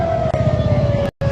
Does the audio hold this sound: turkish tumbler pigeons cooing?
no